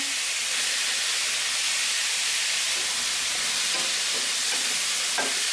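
Bell pepper and zucchini sizzle and hiss steadily in a hot pan, with a few soft stirring scrapes near the end and no talking.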